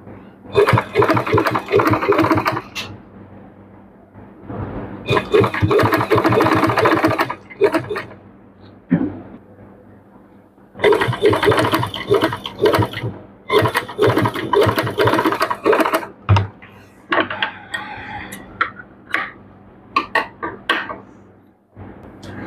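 A sewing machine stitches piping onto a kuchi neck design for a dress. It runs in loud, close, rattling bursts that stop and start several times, with short quiet gaps and some voice between runs.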